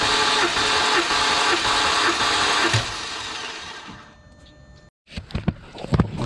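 A BMW N52 engine cranks over on the starter with its fuel cut for a compression test on cylinder number 1, giving a loud, steady mechanical churning for about four seconds before it fades and stops, followed by a few clanks.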